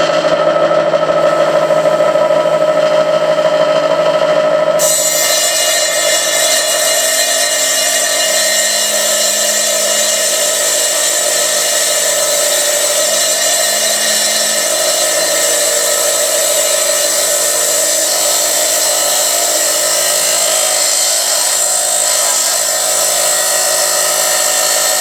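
A small high-pitched power tool polishes a fossil echinoid, Scutellaster major, with a loud continuous whine. The pitch shifts slightly after the first few seconds and then holds steady for the rest of the run.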